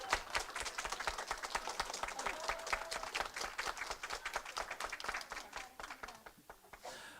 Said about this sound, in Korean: 서로 보듬는 박수의 시간을 좀 가지면 좋을 것 같습니다